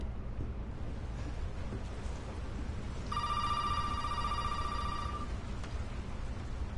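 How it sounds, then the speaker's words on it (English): Telephone ringing inside a house in the horror game Resident Evil 7, a bright electronic ring lasting about two seconds over a steady bed of rain-like ambient noise. "I hear the phone ringing"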